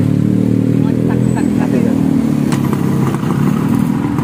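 A Yamaha RX King two-stroke motorcycle idles and revs loudly nearby through a modified exhaust, a steady throbbing engine drone with slight rises in pitch while people talk over it.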